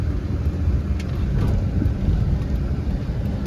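A 2500 Chevy Avalanche with the 8.1-litre 496 big-block V8 rolling along, giving a continuous deep rumble of engine and road noise with a broad, steady hiss from inside the cab.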